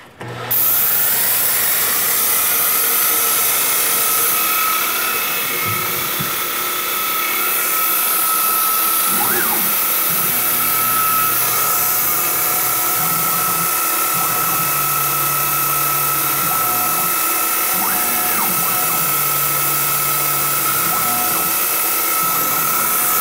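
Steady whine of a machine spindle with grinding, ratcheting cutting noise that comes and goes in bursts as a spotting drill cuts metal vise jaws, continuous and fairly loud throughout.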